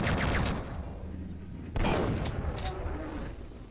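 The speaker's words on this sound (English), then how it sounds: "I thought you were firing at me." Gunfire and explosive blasts in the first-person shooter Duke Nukem 3D, loud dense bursts with a sharp new impact partway through, continuing as a rumbling barrage, with a voice speaking over part of it.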